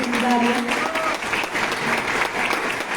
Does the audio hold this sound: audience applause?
yes